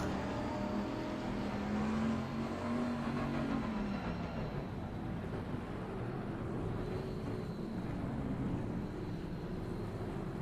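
Engines of Aston Martin and Bentley GT race cars in the Assetto Corsa Competizione racing game, a steady roaring drone with a rising and falling revving tone early on, continuous and fairly quiet with no talk.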